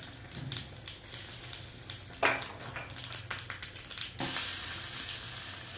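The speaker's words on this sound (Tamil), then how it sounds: "கடுகு வெந்தயம் சீரகம் பெருங்காயம் எல்லாம் போட்டு தாளிக்கணும்" Mustard seeds, fenugreek and cumin crackle and sizzle in hot oil with rapid popping bursts, then a louder steady frying hiss takes over toward the end.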